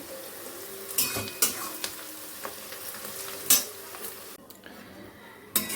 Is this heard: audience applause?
no